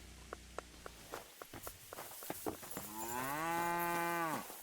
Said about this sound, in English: the cow is calling for Stanislav